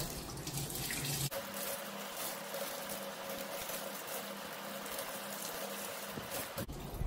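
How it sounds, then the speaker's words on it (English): A tap runs steadily into a sink while turmeric-dyed fabric is rinsed, giving a continuous close splashing rush that briefly changes tone at the start and end. "keep rinsing until the water runs clear"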